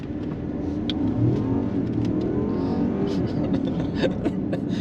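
A 2023 BMW 760i xDrive with a 4.4-liter V8, 8-speed automatic and 48-volt hybrid system accelerates hard, its engine roaring loud and close in a continuous rising pull.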